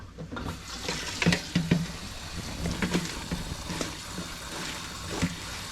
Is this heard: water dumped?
yes